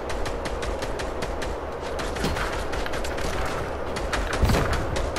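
Steady rapid gunfire in a video game aimed at a sword-wielding enemy, with sharp shots repeating in a quick regular rhythm throughout, loud and close, with little talking.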